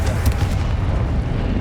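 Confringo fire-blast spell exploding in Hogwarts Legacy, a heavy booming burst up close that rolls off into a rumbling tail.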